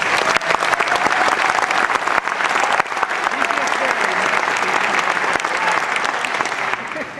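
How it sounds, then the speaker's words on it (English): Sustained applause from a sizable theatre gala audience, dense steady clapping that holds loud for several seconds without pause. "we'd like to have a nice round of applause for another RCAF vet"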